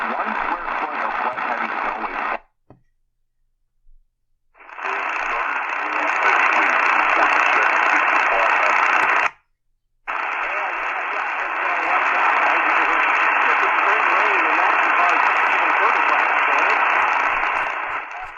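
A Tecsun PL-330 portable radio picks up faint AM station WMT 600 from Cedar Rapids in sync mode, producing loud, steady broadcast audio with hiss, cut by two short silent gaps as it is tuned.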